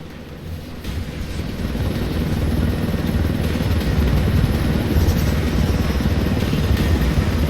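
A helicopter in the video game Ghost Recon Wildlands, heard as a steady, loud low-pitched engine and rotor drone that swells slightly after the first second and holds evenly throughout.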